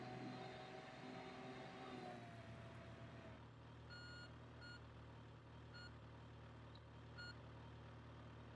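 Truck reversing beeps in the video game Wobbly Life on a farming job, a steady series of evenly spaced electronic beeps over a low engine hum, moderately loud and unaccompanied by talk.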